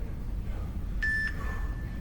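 A workout interval timer gives a single clear electronic beep lasting a fraction of a second, with a fainter tone trailing after it, over a low room rumble.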